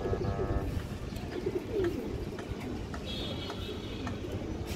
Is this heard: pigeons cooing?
yes